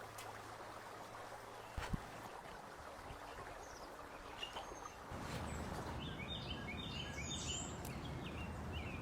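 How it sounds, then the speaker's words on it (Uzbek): A mountain stream at a dacha in Chimgan, Bostanliq district, rushes steadily at a distance. The flow grows fuller partway through, with faint bird chirps and a few brief knocks above it. "soy ovozini eshityapsizlarmi?"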